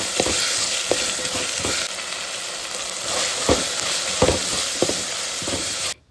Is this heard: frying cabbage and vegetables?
yes